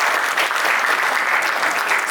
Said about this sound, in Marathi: एकदा जोरदार टाळ्या झाल्या पाहिजेत